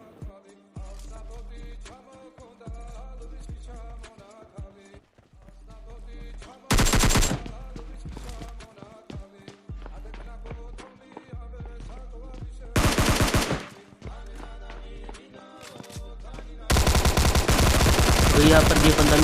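AKM assault rifle fire in the mobile game PUBG Mobile Lite: three loud, dense bursts of rapid shots break through quieter background game music, with the last burst running longest.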